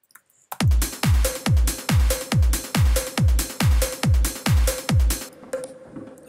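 Layered trance percussion loops pound along at a steady four-on-the-floor pulse, with booming kicks on each beat and a reverb-washed open hi-hat hissing between them, loud and driving, then dropping out near the end.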